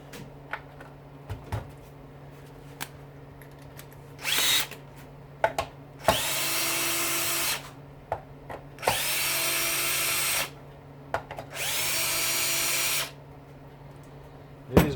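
Short bursts from a power drill spinning a bit during a dishwasher motor teardown, several whirring runs of a few seconds each separated by quiet pauses and small clicks of handling.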